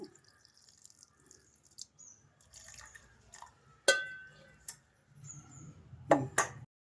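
Quiet, intermittent splashes and drips of water poured into a container to soak tamarind, separated by near-silent gaps, with a slightly louder splash near the end.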